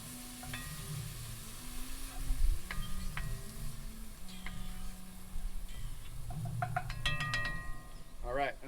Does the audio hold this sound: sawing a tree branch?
no